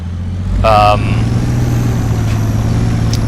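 A massive off-road truck engine in the Spintires driving game drones with a low steady rumble throughout, while a voice talks over it.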